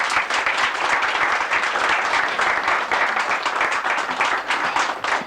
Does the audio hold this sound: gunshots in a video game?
no